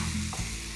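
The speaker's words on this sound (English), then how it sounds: "Saute those greens down, and you just want to mix it up so you get the kale on the bottom to get some more of that heat" Kale greens sautéing in a hot pan with a steady low sizzle and a brief stir, short and close with no voices.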